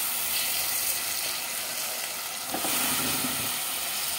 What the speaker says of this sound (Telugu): ఇప్పుడు మనం ఇదిగోండి కాలీఫ్లవర్ని చక్కగా వేసేసుకుందాము